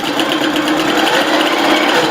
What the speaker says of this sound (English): I'll put my quilts underneath, lower my foot, start to sew.